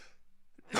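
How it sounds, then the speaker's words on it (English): A single short cough, close and abrupt, following a brief quiet breath. "Cough is messing me up"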